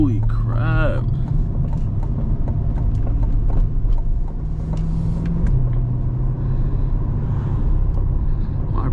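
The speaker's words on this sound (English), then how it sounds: "damn, my brakes are squeaky" A car's brakes let out a brief, high, wavering squeal on a drive through Florida. The squeal sits over a steady low engine and road rumble that continues alone afterward.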